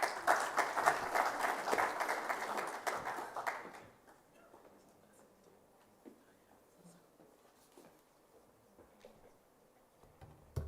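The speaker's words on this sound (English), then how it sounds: "Round of applause." Audience applause at a cyber security conference session: loud, dense clapping for about four seconds, then it dies away to a quiet hall with faint murmurs and small knocks.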